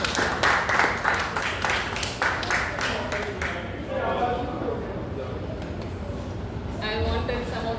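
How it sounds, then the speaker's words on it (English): Scattered clapping from a small audience at a Toastmasters club meeting, fairly close and fading after a few seconds, with voices talking underneath. "Please give him a round of applause."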